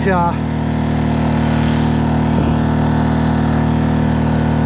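A 2000 watt generator runs under heavy load near its limit, a loud, steady engine drone that holds constant throughout, with a brief voice heard at the very start.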